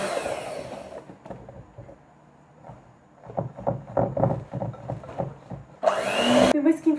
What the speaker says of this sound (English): I'm just using the electric beater, and I'm going to whisk this until you can see it's all dark sugar and margarine.